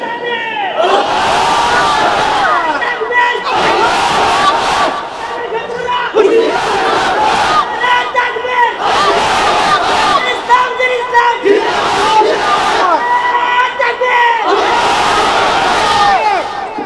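A large crowd at a religious gathering shouts takbir together in loud, repeated bursts, about six or seven surges roughly two seconds apart, rising and falling as one massed chant.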